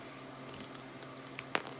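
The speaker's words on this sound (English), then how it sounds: "you can also use a pair of scissors from the dollar store" Several light metallic snips of cheap dollar-store scissors close by, cutting basket-weaving material, one sharper cut standing out near the end, against a quiet room background.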